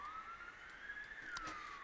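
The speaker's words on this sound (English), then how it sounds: "They got police sirens." Faint police sirens wail and sweep up and down as distant ambient background in the video game Schedule I, a steady rising-and-falling tone with no talking over it.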